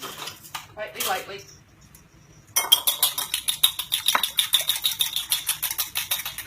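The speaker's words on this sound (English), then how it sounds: "And we're going to beat the egg just lightly." An egg is beaten lightly in a bowl for ground-turkey stuffed zucchini boats, a fork clinking quickly and rhythmically against the bowl, close and steady, after a few quieter kitchen sounds.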